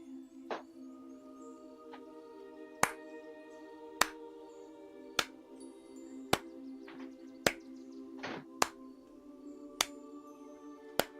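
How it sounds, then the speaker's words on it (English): Slow, evenly spaced hand claps, about one a second, sharp and distinct over a steady low hum in a quiet room. "I clap slowly."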